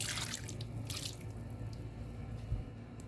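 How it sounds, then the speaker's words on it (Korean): Water poured from a tap over soybeans soaking for meju, a steady close splashing and trickling stream that runs for about three seconds. "물을 조금 더 부어서 잘불락하게 잠기도록 했습니다"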